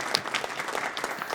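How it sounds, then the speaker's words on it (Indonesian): Brief burst of audience applause on a talk show about making viral content, a dense steady patter of many hands lasting just over a second. "tepuk tangan dulu yuk teman Milea"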